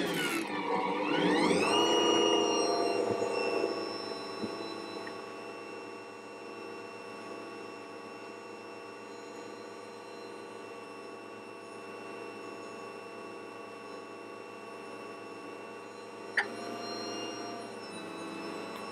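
An Ankarsrum stand mixer works focaccia dough with a steady, even motor whir and faint rubbing churn. A louder start gives way to a constant hum that runs alone throughout, with one brief knock near the end.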